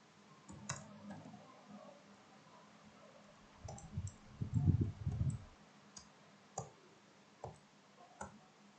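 Scattered clicks and keystrokes on a computer keyboard while a command is typed into STATA statistics software, quiet and close with irregular spacing and brief dull thumps midway, no talking.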